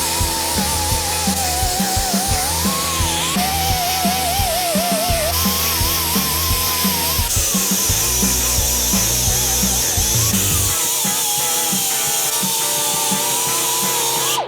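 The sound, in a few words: grinding a Harley Sportster frame to prep for welding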